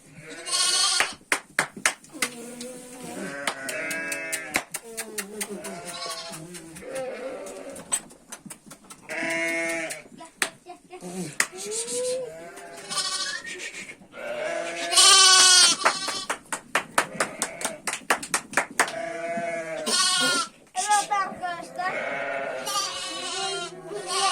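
Several sheep bleat over and over in a village flock with newborn lambs, their wavering cries overlapping close by in a busy, continuous chorus.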